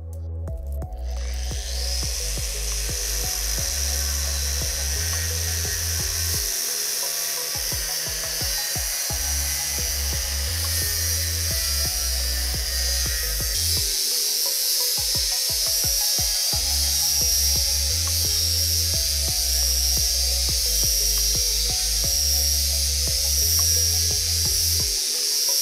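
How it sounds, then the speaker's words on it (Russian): A Zubr Professional 1.5 kW 125 mm angle grinder with a thin 1 mm cutoff disc slices through 75 mm steel angle, a loud sustained high-pitched whine with shifting grinding tone throughout, close and alone. "Так, попробуем отрезать кусок 75-го уголка."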